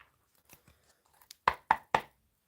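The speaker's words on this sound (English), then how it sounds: "Sorry, that was really noisy. They're my pots that I made in pottery class" Handmade ceramic pots from a pottery class knocked and set down, three sharp close clacks in quick succession after a few faint scrapes and taps in a quiet room.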